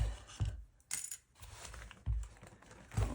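Coins clatter and jingle as they tumble from a mason jar full of cash, several metallic clinks and soft thumps in irregular bursts, close and fairly quiet.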